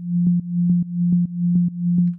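Deep, steady bass tone pulsing in a bouncy repeating pattern, with regular short kick thumps punching through roughly twice per beat; loud and synthetic, an uptempo kick made in FL Studio, no voices.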